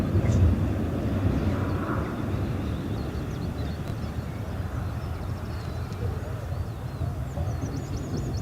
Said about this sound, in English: KLM 737-800 taxis on